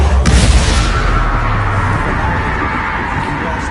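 Confringo spell explosion in Hogwarts Legacy on PS5, a loud deep boom with a bright crackling burst at the start that decays into a long rumbling tail and steady background hum.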